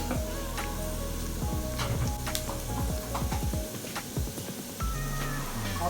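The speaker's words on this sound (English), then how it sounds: "I'll give this a good stir" Thyme and seasonings sizzling in coconut fried rice, a close, dense frying hiss with repeated quick scraping stirs of a spoon through the rice.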